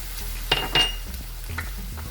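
Kofta biryani mixture with dried plums stirred in a pot, a few quick spoon scrapes and clinks against the metal over a faint sizzle.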